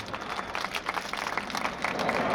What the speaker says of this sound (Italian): E qua ci sta un bel applauso da parte vostra.